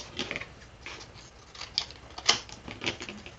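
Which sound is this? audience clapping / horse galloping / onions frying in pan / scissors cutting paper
scissors cutting paper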